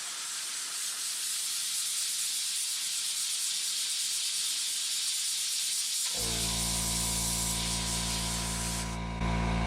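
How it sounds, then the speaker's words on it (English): An airbrush sprays paint onto a plain white fishing jig at a hobby shop, giving a steady close hiss that runs unbroken throughout, with a low constant hum joining in partway. "We're just learning how to use this airbrush."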